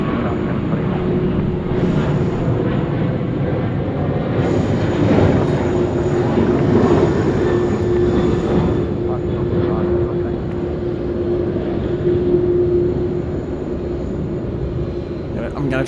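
A Qantas Airbus A330 at Sydney Airport at night sends a steady, loud engine roar with a sustained whine across the whole stretch, a constant jet drone throughout.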